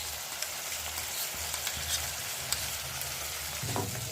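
Onion, ginger and garlic masala frying in butter for matar paneer, a steady close sizzle with soft stirring clicks and scrapes throughout, no voices.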